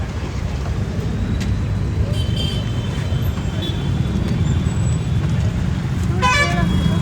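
A loud, steady rumble of a road vehicle arriving fills the scene, close and continuous, with a short horn toot breaking through near the end.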